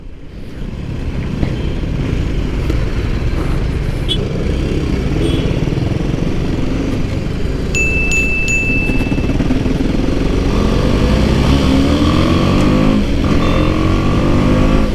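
BMW G310 GS motorcycle riding in Chandigarh, its engine and exhaust droning steadily and loud throughout with slight rises in pitch, plus a brief high tone partway through.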